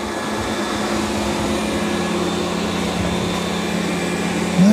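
A Roborock Q5 Pro robot vacuum and mop works across a damp floor with a steady, close, continuous whooshing hum that barely changes.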